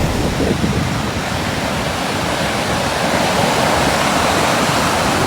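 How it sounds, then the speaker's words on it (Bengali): Sea waves break on a shore in Sri Lanka, heard as a loud, continuous, close roar of surf and rushing water with no pauses and no voices. "সমুদ্রের চমৎকার গর্জন শুনতে পাচ্ছি একটু পর পর সমুদ্রের ঢেউয়ের থেকে আছড়ে পড়া যে পানিগুলো"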